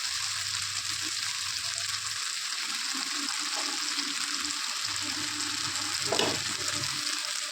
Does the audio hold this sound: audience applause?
no